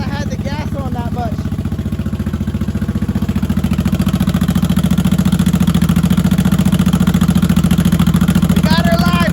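A 1983 Honda Shadow VT750C 750 engine runs loud and steady just after its first start, a continuous low idling rumble that swells as the throttle opens, with a voice heard over it briefly.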